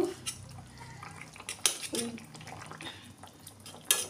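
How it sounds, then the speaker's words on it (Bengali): Spatula pressing and scraping raw green mango pieces into a simmering Bengali fish curry, giving soft clinks and scrapes against the pan with a few sharper metallic taps, close and moderately quiet. "খুন্তি দিয়ে চেপে চেপে একটু ঝোলের সঙ্গে মিশিয়ে নিলাম।"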